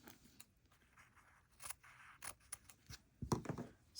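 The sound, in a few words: cutting thread off with scissors while hand sewing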